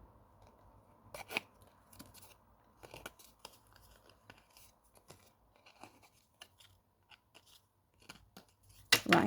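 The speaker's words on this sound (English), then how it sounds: "Just going to cut the pips off." Scissors snip the pips off a sunflower craft kit, a series of close, crisp cuts and small rustles coming in irregular bursts, with a louder crunchy snip at the end.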